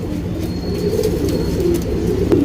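Kavali Makshi cock pigeon cooing in repeated low, throaty burbles, close and fairly loud over a dull background hum.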